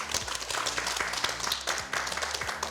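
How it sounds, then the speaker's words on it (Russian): An indoor audience applauds with steady, moderately loud clapping that runs throughout, with busy overlapping claps from many hands. "Аплодируем."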